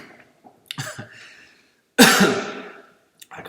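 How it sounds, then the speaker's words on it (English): A few close coughs after tasting olive oil: a short throaty cough, then a louder, harsher cough that trails off, followed by a brief sound of breath. "I got 2 coughs out of that one."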